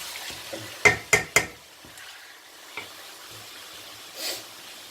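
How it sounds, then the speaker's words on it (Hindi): A spoon stirs about one kilo of chicken frying in a karahi: three sharp metallic scrapes close together near the start, then sparse softer clinks and stirring over a faint sizzle, with no talking. "इसको खूब हिलाएंगे पहले तकरीबन 4-5 मिनट"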